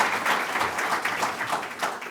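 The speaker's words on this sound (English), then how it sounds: "Let's give a round of applause to" Round of applause from an audience at an East Harlem award announcement, a dense close patter of clapping swelling in waves for about two seconds with no talking.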